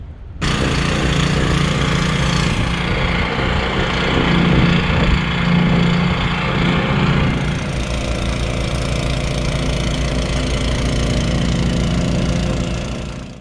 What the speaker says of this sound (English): And there's this guy on the pier, on the dock, with a snowblower